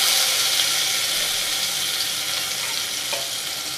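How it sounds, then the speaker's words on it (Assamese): Potatoes frying in a hot wok give a steady, dense sizzle from start to finish, close and fairly loud, with nobody talking. "কেৰাহী গৰম হৈছে এতিয়া মই আলুখিনি দি দিছো ইয়াতে"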